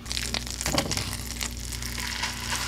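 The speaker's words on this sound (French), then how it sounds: "On ajoute une noix de beurre pour faire revenir la viande en ajoutant du sel et du poivre" Meat sizzles in melted butter in a pan over medium heat, a steady close crackle and hiss with a brief louder spatter of movement partway through.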